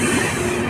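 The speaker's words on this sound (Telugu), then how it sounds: "మంది స్లోగా వెళ్తుంది ట్రైన్" Dhauli Express on the Puri–Howrah route creeping along under a temporary speed restriction for track works, giving a brief, steady, moderately loud rolling rumble with a faint tonal whine.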